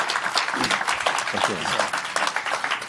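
Audience applause at a summit's opening remarks, a dense burst of clapping filling the room while a voice speaks briefly over it.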